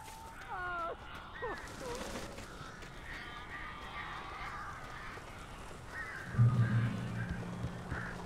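Crows in the video game Alan Wake caw in a few harsh bursts early on, moderately loud over a dense, murky game ambience, with a low rumbling swell near the end.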